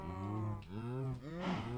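Cows in the Minecraft video game moo in three drawn-out, tonal calls one after another, fairly close and clear, with no talking over them.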